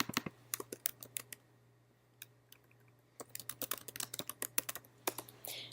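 Rapid bursts of computer keyboard key presses, close and crisp, typing in quick irregular clusters with a short pause in the middle, no voices.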